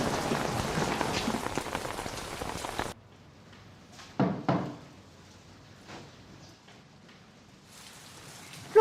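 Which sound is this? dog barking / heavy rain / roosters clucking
heavy rain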